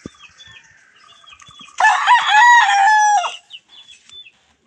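Backyard hens cluck softly before a rooster crows once, loud and near, with a drawn-out call, followed by more scattered clucking.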